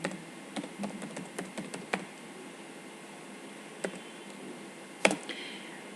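Typing on a computer keyboard during a sociology lesson, with scattered quiet keystrokes and short clusters of clicks, the sharpest one near the end, over a low steady hiss.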